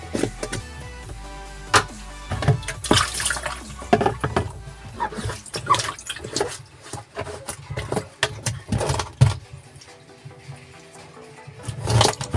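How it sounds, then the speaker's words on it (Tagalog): Household washing machine draining water during cleaning, heard as irregular gurgling and splashing with clunks and knocks, loud and close, fading to near quiet before a final bump. "Ayan ay nakadrain mga tropa para labas agad yung tubig."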